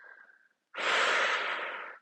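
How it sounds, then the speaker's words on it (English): A person doing a back exercise on a towel breathes in softly, pauses, then lets out one long, loud, airy exhale, close and alone. "you should get into that full breathing cycle, teaching your brain how to relax through the challenge"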